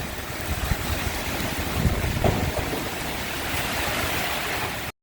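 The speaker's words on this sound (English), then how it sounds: "The rain's pretty heavy again." Heavy rain from Tropical Cyclone Fina pours down in Darwin, a dense, steady hiss with low rumbling wind noise and a couple of faint thuds underneath, continuous throughout.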